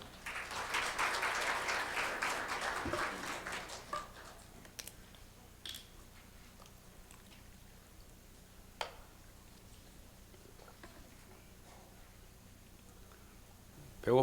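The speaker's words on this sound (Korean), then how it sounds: "뜨거운 박수로 맞아주시기 바랍니다." Audience applause at a charity and giving culture conference in Korea, welcoming a university professor to the lecture stage: dense clapping for about four seconds that fades out, followed by a quiet room with a few scattered sounds.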